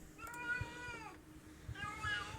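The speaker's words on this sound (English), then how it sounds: "you may hear my cat in the background" A pet cat meows twice indoors, each call drawn out and fairly close, separated by a short pause with faint room noise and low thumps beneath.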